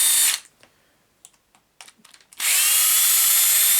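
A power screwdriver drives metric screws into a KKPIT K1 chassis, with a loud steady whir at the start, a pause filled by small clicks and handling taps, then a second long whirring run close by.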